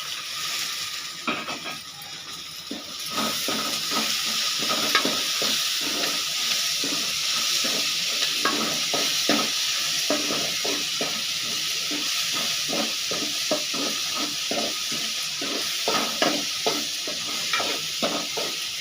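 Onions sizzle and hiss steadily in a pan and are stirred with many quick scraping strokes. The frying is close and fairly loud, building after the first few seconds and holding steady without talking.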